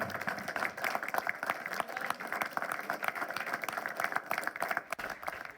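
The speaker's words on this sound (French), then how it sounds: "Je pense qu'on peut applaudir encore une nouvelle fois tous nos lauréats" An audience at a Paris award ceremony for the Pass Africa 2022 laureates claps for the winners, with rapid, crisp individual claps merging into lively, fairly close applause that fluctuates slightly in strength.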